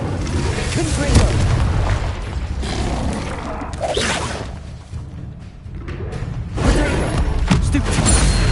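Booming spell blasts from the Confringo fire curse in Hogwarts Legacy, several loud explosions with whooshing bursts, the strongest near the start and again near the end, under a player shouting spell names.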